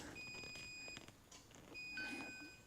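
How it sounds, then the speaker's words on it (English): An electronic device near a home breaker box gives thin, high beeps, a couple of sustained tones and a few shorter chirps, faint and spread over quiet room noise. "What is she beeping about?"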